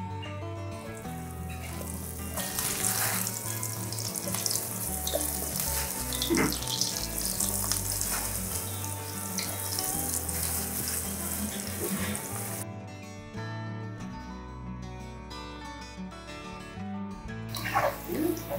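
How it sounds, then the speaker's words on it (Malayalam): Masala-coated cauliflower pieces drop into hot oil for gobi 65 and fry with a loud, steady broadband hiss and crackle that holds throughout, thinning briefly near the end before surging again. "കോളിഫ്ലവർ നമുക്ക് എണ്ണയിലോട്ട് ഇട്ട് കൊടുക്കാം."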